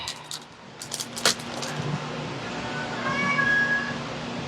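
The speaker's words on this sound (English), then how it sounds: "My cat thinks I'm supposed to feed them rotisserie chicken." A cat meows in a kitchen where rotisserie chicken is being carved. A single drawn-out meow rises faintly over a steady low hum, after an earlier light jingle of keys.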